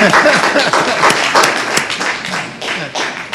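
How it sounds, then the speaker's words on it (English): An audience at a county board of commissioners meeting claps together, a loud dense patter of many hands that carries on throughout and tapers slightly toward the end. "We can clap for that."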